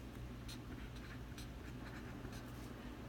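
A pen or pencil writes out the answer to a math problem about the area of a rectilinear botanical garden, making quiet, close scratching strokes in short irregular bursts.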